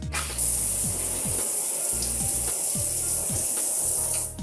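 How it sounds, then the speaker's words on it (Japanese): Foaming chlorine bleach cleaner is sprayed from a trigger bottle onto a wet bathroom floor in repeated hissing bursts, close and loud, each pump leaving a brief click between sprays. "シャワーで少し濡らしてからスプレーをして掃除をしていきます。"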